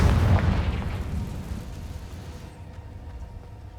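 A Confringo blasting spell explodes in the Hogwarts Legacy video game with one loud, deep boom that bursts up front and then fades into a long rumbling tail.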